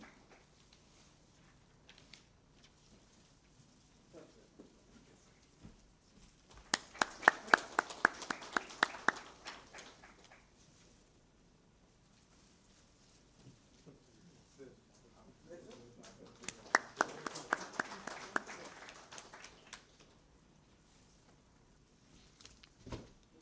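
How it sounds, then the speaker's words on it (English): Two bursts of audience applause at an annual partners forum, each lasting a few seconds of dense clapping from a room of people, separated by quieter stretches with some talk in between. "Can we have a round of applause, please?"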